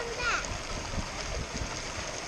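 Water splashing from a small jet beside a sailing boat on a river, a steady close wash of splatter and churn with faint voices in the background.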